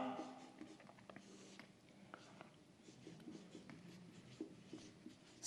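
Pen on paper writing out points by hand for a Class 12 geography lesson, with faint, steady scratching strokes close by and quiet breathy sounds over a low background.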